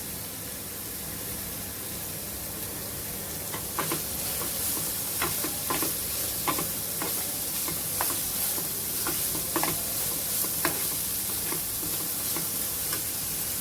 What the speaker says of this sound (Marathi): त्याच्यानंतर सिमला मिरची घाले घालतोय आपण